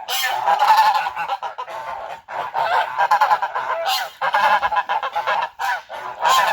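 Domestic geese in a farmyard shed honk loudly in repeated bursts during winter frost, several birds calling close by with brief gaps between outbursts.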